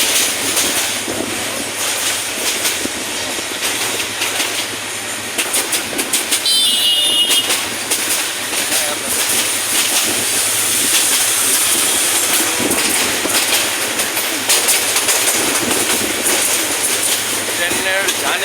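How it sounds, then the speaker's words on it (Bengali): A crowded passenger train in Bangladesh, carrying riders on its roof, runs along with a continuous loud rumble and rattling wheel clatter, with a brief high squeal partway through and faint voices mixed in. "ট্রেনের জার্নি, ট্রেন ভ্রমণ অনেক শান্তিপ্রিয়।"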